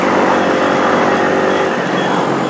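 A motorcycle riding through Portsdown Hill on a sunny afternoon, its engine a loud, steady, close roar with a constant droning tone and no talking.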